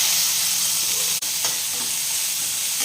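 Mustard seeds, cumin and a little fenugreek crackle in hot oil for a sambar tempering: a steady, close sizzling hiss with one brief dropout, and no voices.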